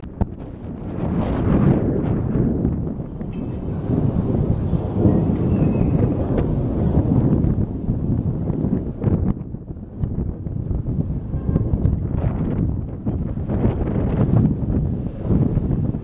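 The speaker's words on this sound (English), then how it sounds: "In any case, it's a magnificent storm." A thunderstorm over the Sea of Marmara at Istanbul, with continuous loud wind buffeting and deep rumbling thunder rolling throughout, no voices present.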